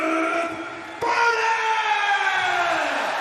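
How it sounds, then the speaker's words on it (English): A huge arena crowd at Saitama Super Arena roars before a Pride 28 fight, with a sustained, loud wall of cheering and wailing voices that swells sharply partway through and holds steady. "I have never felt a crowd here at Saitama Super Arena this jacked up for a fight before"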